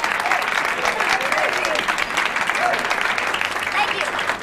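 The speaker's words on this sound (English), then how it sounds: "let's give a nice, warm round of applause" Audience giving steady, dense applause for a singer at a small venue, continuous clapping with crowd murmur and some cheering throughout.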